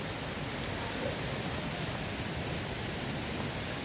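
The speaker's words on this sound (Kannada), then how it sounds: "ಹೇಗೆ ಬೀಳ್ತಾ ಇದೆ ನೋಡಿ ಜರಿ ಫಾಲ್ಸ್." Jari Falls in Chikmagalur, India, gives off a constant, dense broadband roar of falling water, steady and loud throughout with no pauses.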